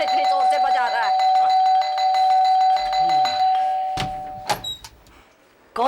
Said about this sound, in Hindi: इतने जोर से कौन घंटी बजा रहा है?